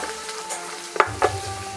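Garlic sizzles in a pan while being stirred for spaghetti sauce: a steady low frying hiss with two sharp scraping clinks of the utensil close by near the end.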